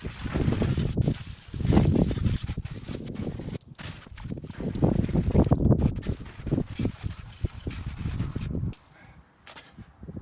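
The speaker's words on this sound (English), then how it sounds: "But I'm just gonna continue rinsing this thing fully." Water sprays and splashes in uneven bursts from a hose against a motorcycle, fairly close, with the spray cutting off briefly near the end.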